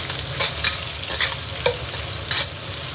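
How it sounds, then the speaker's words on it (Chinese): Ginger, Sichuan peppercorns and garlic stir-fried in a wok over low heat make a dense, continuous sizzle with a few louder scraping tosses, close and alone with no voices. "咱把这个姜，还有这花椒啊，给它放进去，蒜子也给它放进去啊，给它炒一下"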